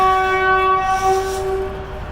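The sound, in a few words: TEXRail train arriving with horn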